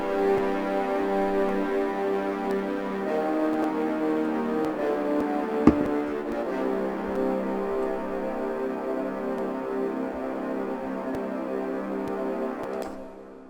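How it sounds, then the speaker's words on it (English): Sustained, layered brass-like synth chords hold steady with rich harmonics, then fade out at the end, with no voices. "I did layer this with another similar sounding brass"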